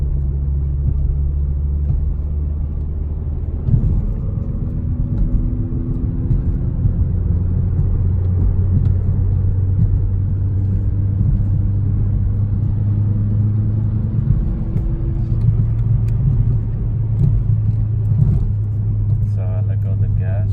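A Chevy Cruze 1.4T ECO with muffler and resonator deleted for a straight-pipe exhaust, its engine droning loud and close in a deep steady rumble that swells and settles around 3,000 RPM, with speech over it.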